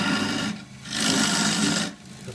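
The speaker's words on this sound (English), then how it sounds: "So I'm going to be using a 3/4 inch square end scraper." A 3/4 inch square end scraper hollows out a wooden chuck collar on a lathe, a steady rasping scrape in two sustained bursts separated by brief pauses.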